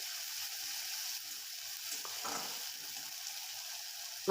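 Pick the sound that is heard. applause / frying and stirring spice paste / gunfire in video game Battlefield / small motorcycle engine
frying and stirring spice paste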